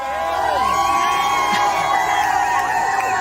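A crowd at Paradise Beach cheers and whoops continuously, loud and sustained, with voices shouting over a bed of rhythmic music.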